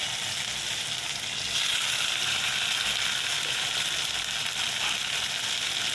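Taro stolons (lati) go into a pan of fried tomato for a rohu fish curry, giving a steady, loud, hissing sizzle that runs unbroken throughout with no voices.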